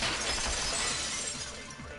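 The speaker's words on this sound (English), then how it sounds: "the girls heard the sound of the window shattering" Glass shatters in a loud, bright burst from the video game Super Danganronpa 2, the crash and scattering shards filling the whole moment before tailing off slightly.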